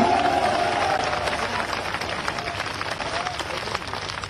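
Crowd applause at an outdoor political rally in Dabra, a broad steady roar of clapping and cheering that holds constant at moderate loudness, with a brief voice near the start.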